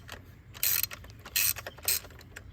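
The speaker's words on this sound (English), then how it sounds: "Just going to move the socket back and forth, and until this 10mm nut comes off." A 10mm socket ratchet clicks back and forth in short bursts, loosening an ignition coil nut under the hood of a 2006 Dodge Dakota 4.7L; three sharper ratcheting bursts stand out against quiet handling.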